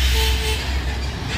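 A trailer truck passes on a congested road at Bukit Kodok, a loud, close, steady low rumble that fills the whole moment with no voices over it.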